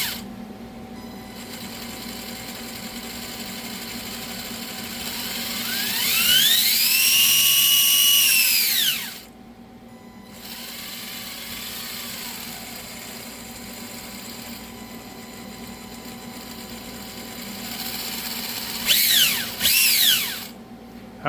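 Small RC rat rod beetle car with a small pinion gear fitted, its electric motor whining in a rising and falling tone with a gritty gear-mesh buzz, running steadily for several seconds and then in two shorter bursts near the end.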